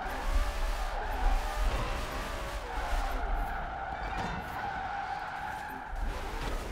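A Mustang, an RTR model, in the Forza Horizon 4 racing game, engine roaring continuously while its tires skid and squeal through hard cornering, loud and sustained for several seconds with faint talk underneath.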